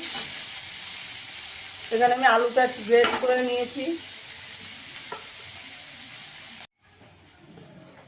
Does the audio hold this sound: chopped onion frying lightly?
yes